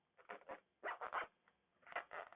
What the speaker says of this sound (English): the zipper blew out already